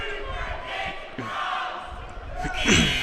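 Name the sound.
basketball crowd noise during a free throw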